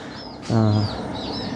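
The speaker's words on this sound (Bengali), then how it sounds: "পলো না পলোর মধ্যে মুরগির বাচ্চা" Faint, high chick peeps repeat in the background from chicks kept under a bamboo fish trap on a river char in Faridpur, interrupted by one short, low, buzzy cluck-like sound.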